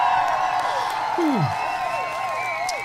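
Canned applause and cheering play at moderate level in a review show, a dense crowd-clapping wash running throughout, with a few whooping tones over it.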